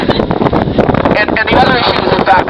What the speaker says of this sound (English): ooh, here comes the wind.